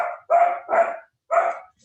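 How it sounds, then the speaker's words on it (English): A dog named Lucas barks at a cat outdoors, four loud, close, harsh barks in an uneven rhythm with short pauses between them, no talking over them. "Lucas is barking at a cat"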